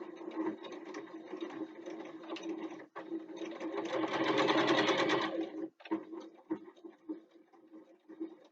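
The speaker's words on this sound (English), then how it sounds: "So we'll take it to the machine and do a quick sew." A sewing machine runs continuously, stitching a fabric bookbag backpack, with a hum that swells louder in the middle and two brief pauses before it resumes in shorter bursts.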